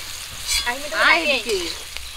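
Panch phoron, chopped onion and slit green chilies hitting hot oil in a pan, a loud steady sizzle that swells and fades over a couple of seconds, with no voices over it.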